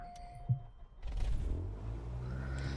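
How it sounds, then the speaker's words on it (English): Aircraft engine cranking and catching in Microsoft Flight Simulator 2020, a brief click and then a rising broadband rumble that settles into a steady, moderately loud drone. "We're gonna start the engine the quick way."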